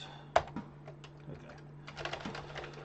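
Keys are tapped on a Commodore 64 keyboard under repair, scattered clicks at an irregular pace with one sharper knock near the start and a small burst of faster typing toward the end, against a faint steady hum.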